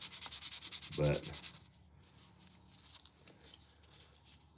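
Sandpaper rubbing over a workpiece in rapid, even back-and-forth strokes, close and steady, easing into softer, scattered scrapes in the latter part of the clip.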